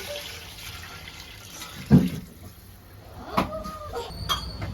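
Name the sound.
pouring water into a cooking pot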